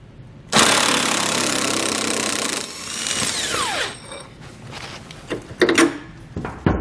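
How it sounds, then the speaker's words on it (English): A bolt is removed with a socket at the center mounting point of a 2020 GMC Sierra during a nerf bar install. A loud, steady power-tool burst lasts about two seconds and winds down, followed by a few light metallic clanks. "Take the same size socket, remove this bolt."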